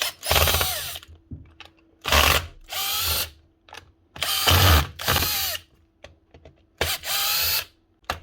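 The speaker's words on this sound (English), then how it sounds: "Take all the screws out." Bosch GBH 24 VRE 24-volt cordless SDS drill being unscrewed with a power driver: five loud bursts of whirring, ratcheting motor, each a second or so long, separated by short pauses with no talk.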